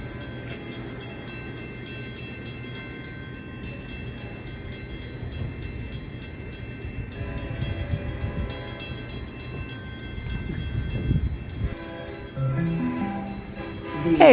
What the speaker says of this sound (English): the train will be arriving going in the opposite direction